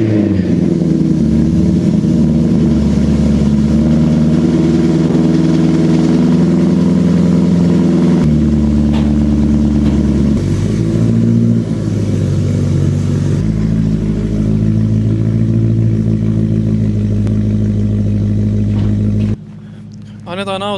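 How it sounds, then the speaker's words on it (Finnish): A BMW M3 E92 engine cranks into life and settles into a loud, steady idle close by, with a shift in tone partway through, while people talk over it. "Annetaan auto käydä lämpimäksi tässä."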